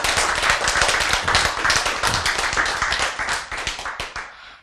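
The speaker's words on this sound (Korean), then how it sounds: "박수" Hand clapping during a Korean church sermon, a dense run of loud, sharp claps that stays steady for several seconds, then thins out and fades at the end.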